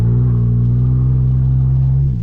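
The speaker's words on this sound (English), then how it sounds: "So the truck doesn't sound too great the way it is." A ZR2 pickup truck engine with stock exhaust idles with a steady low droning hum, loud and close, dipping slightly at the very end.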